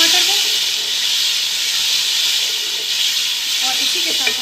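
Tomatoes sizzling loudly in a hot pan while being mixed for a masala kofta curry, a steady close hiss with light stirring scrapes throughout.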